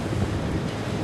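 Wind blowing at sea over an offshore construction site, a steady loud broadband rush of gusting wind and surf buffeting close to the microphone, continuous with no talk.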